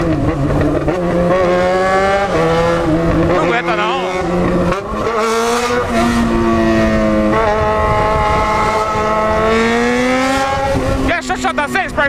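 A loud Honda CB650 motorcycle engine revs and accelerates with rising, shifting pitch, roaring continuously nearby as it speeds past.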